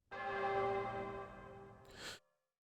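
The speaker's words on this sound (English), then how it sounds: "Toll of the sacrificial bell could be heard." A sacrificial bell in the video game Ys 2 tolls once with a deep, ringing strike whose long harmonic hum fades slowly, ending in a brief breathy swell before silence.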